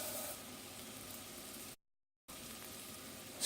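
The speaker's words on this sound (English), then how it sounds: "put the curry in, cook/bloom for 30 seconds" Curry powder sizzles steadily as it blooms in hot fat in a pot before rice is added, a constant close hiss that drops out briefly midway and then resumes.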